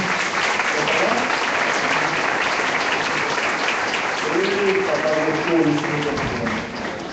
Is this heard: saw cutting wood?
no